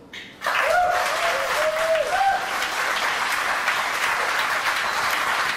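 Audience at a startup accelerator demo day breaks into applause after a pitch, a thick wash of clapping that swells in abruptly and holds steady, with a voice briefly heard over it near the start.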